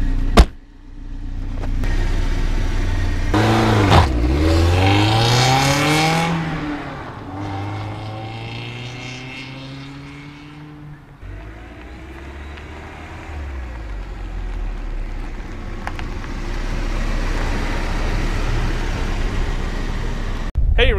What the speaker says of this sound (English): So we will go ahead and do some drive-bys for you.